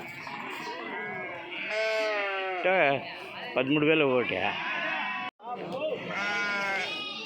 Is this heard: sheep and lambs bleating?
yes